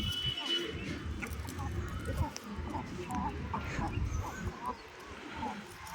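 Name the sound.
Reza breed chickens clucking in a coop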